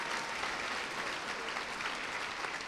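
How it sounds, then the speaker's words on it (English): Steady applause from an audience at an evening behavioral health legislative forum, honoring legislators and staff; dense, even clapping fills the whole stretch at moderate level with no one speaking. "A big round of applause for all of our legislators and staff this evening."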